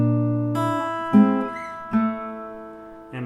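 Fingerstyle guitar plays a measure of a song as a few plucked notes and chords that ring out softly and sustain, close up and alone.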